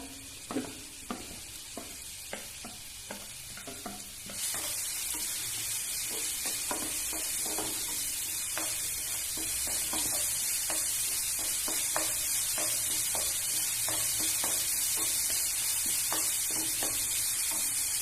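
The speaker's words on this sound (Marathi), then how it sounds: "फोडणीसाठी मी कांदा आणि मिरची टाकते" Scattered stirring clinks, then a sudden loud, steady sizzle as onion and green chilli for tempering hit hot oil and keep frying close by.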